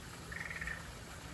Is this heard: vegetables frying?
no